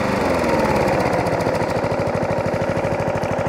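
Small lawn mower engine, recently repaired after running only on choke, idling close by with a steady rapid chugging beat and no voices.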